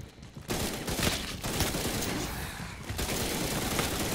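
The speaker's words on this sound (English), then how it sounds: "machine guns for life in this game" Rapid automatic machine gun fire rattles in the Resident Evil Re:Verse shooter game, sustained bursts of dense crackling shots with short breaks between them, loud and continuous.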